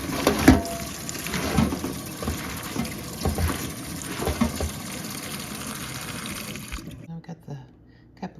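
Salad greens are rinsed under a running kitchen tap, water splashing and pattering steadily at close range for several seconds before it cuts off, with a voice talking over part of it.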